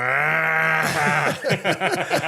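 A man imitates a cow mooing, holding one long, loud, low vocal tone for almost a second before he breaks into ordinary speech.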